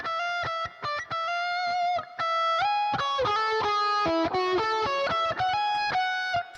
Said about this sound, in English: We can listen to it just as the guitar part on its own